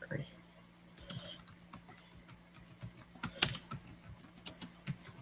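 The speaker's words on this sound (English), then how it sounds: "Let me type it in" Someone types on a computer keyboard, entering a name into a search; irregular close-up key clicks come in quick bursts with short pauses, and a brief faint voice is heard near the start.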